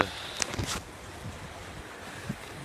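A sailboat runs in light wind on a beam reach with a code zero set, with steady rushing air and water noise, a few bumps and knocks early on, then a low, even wash.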